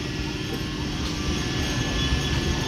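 A down local train runs toward Hooghly railway station, a steady low rumble and rolling clatter building slightly louder over a few seconds, with no voices.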